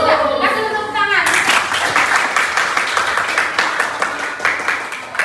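A classroom of students claps hands together in a steady burst of applause after a teacher's voice, the clapping loud and close and continuing to the end.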